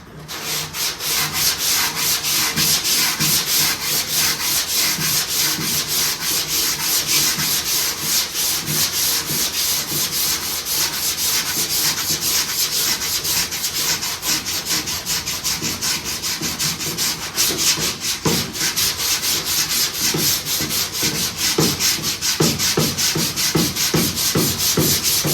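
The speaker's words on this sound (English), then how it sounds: "It's not that bad to sand, it's cutting quick. And this is a really long block" A long sanding block scrubs back and forth over Evercoat 4:1 polyester primer on a car fender, a steady loud rasping with quick repeated strokes that continue without pause.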